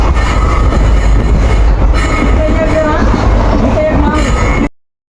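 A passenger train rolling along the rails on a trip to Shegaon, a loud, steady, close rumble with rattling clatter throughout and voices talking faintly within it.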